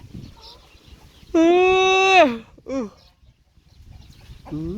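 A loud, drawn-out rooster crow followed by shorter clucks and fowl calls from nearby chickens and ducks, with quiet rustling between.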